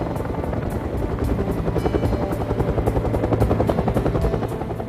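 Rotor of a Bell UH-1 Huey helicopter, a loud steady rapid thumping of blades over a dense engine roar, close and continuous, with no voices.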